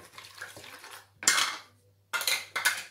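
Raw chicken drumsticks tossed with spices and food colouring in a bowl: a few separate bursts of clattering and scraping as a utensil knocks the bowl, close and fairly quiet, with no voices.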